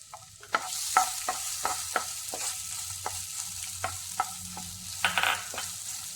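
Chopped banana with cashews and almonds being sautéed in a pan for a Kerala wheat ada recipe: a steady gentle sizzle with a dozen sharp spoon scrapes and taps at irregular intervals, close and alone.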